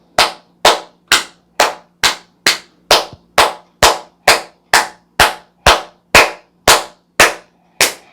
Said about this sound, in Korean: 혈액순환 잘 되라고 또 말초도 이렇게 좀 뚫을 겸 이렇게 손뼉을 치시는데